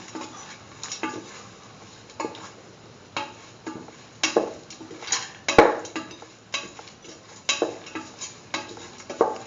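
A spoon stirring 100 grams of lentils into an egg curry mixture in a pot, producing repeated scraping and clinking against the pan in irregular strokes, close up with faint sizzling underneath.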